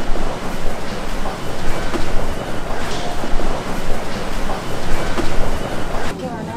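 A Tokyo subway train runs along, a loud, steady rumbling roar with rattling undertones, accompanied by a constant murmur of indistinct voices.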